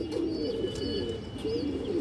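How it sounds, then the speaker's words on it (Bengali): A female pigeon coos close by in a soft, steady, low murmur, with a few faint higher chirps over it and no voices. "খুবই সুন্দর একটা মাদি কবুতর দর্শক"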